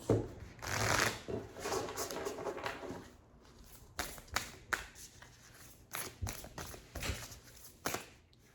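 Oracle cards being shuffled and drawn during a reading: a dense rush of riffling for the first three seconds, then a string of separate sharp flicks and slaps as cards are pulled, close and fairly loud with no talk.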